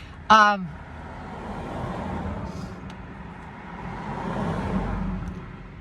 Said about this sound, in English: It's like car after car.